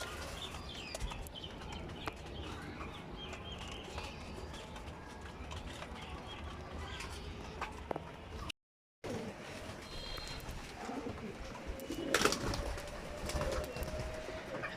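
Male racing pigeons coo softly in their loft, with low, muffled calls over a faint background hum and occasional small knocks.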